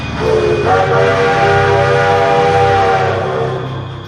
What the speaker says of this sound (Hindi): क्या ये ट्रेन ढोलकपुर स्टेशन पे रुकेगी?